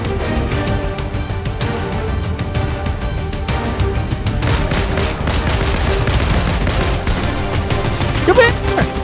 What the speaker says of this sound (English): Somebody else shooting at me too.